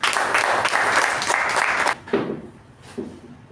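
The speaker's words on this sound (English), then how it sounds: "please put your hands together and welcome Toastmaster Raja with a huge round of applause" An audience at a Toastmasters meeting claps to welcome a speaker, a full burst of applause lasting about two seconds before it cuts off and a voice begins talking.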